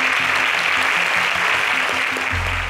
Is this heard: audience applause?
yes